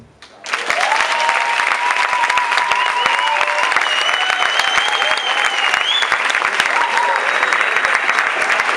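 Audience at a local slam poetry final in Mallorca bursting into sustained applause after a performance, dense and loud clapping that starts abruptly and continues steadily, with a few cheers and whistles mixed in.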